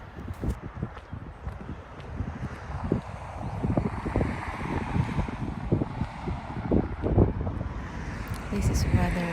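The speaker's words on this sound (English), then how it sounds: "So windy, guys, but that's all right." Chilly wind by a lake in Lake Pertobe Park, heard while walking, comes as low, uneven gusts of microphone buffeting that build toward the end, with faint voices at times.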